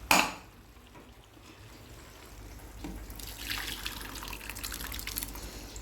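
Paruppu rasam, a lentil soup, is poured from one vessel into another: a short clatter of the pot opens, then a soft liquid trickle swells into a fuller, close pour toward the end.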